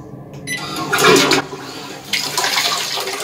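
Toilet in a Japanese capsule hotel flushing on its eco low-water button, a loud close rush of water that surges, dips briefly, then swells again and drains steadily.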